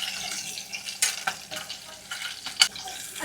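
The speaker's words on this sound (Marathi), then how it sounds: "आता हे चांगलं आपल्याला परतून घ्यायचं." Cumin, green chili and garlic sautéing in hot oil for a curd-onion bhaji, a soft steady sizzle broken by several sharp spatula scrapes and clinks against the pan.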